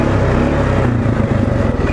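An ATV engine revs hard as it churns through mud, a loud, steady motor drone with a rough, clattering edge that stays close and continuous throughout.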